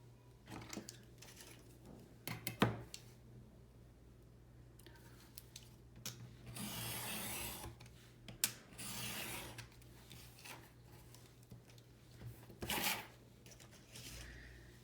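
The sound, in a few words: cutting paper for a mini album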